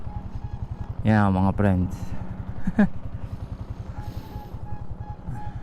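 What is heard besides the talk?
Yamaha Sniper 155R motorcycle with non-stock setup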